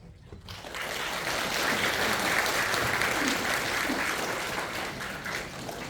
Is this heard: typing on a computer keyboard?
no